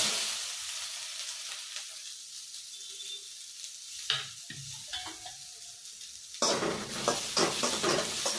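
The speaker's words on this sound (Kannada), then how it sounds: "ಇದಕ್ಕೆ ನಾನು ಈರುಳ್ಳಿ ಹಾಕ್ತಾ ಇದ್ದೀನಿ" Chopped onions fry in ghee for dhaba-style aloo bhuna, with a steady close sizzle throughout, occasional spoon scrapes and clicks against the pan, and the frying growing louder after stirring.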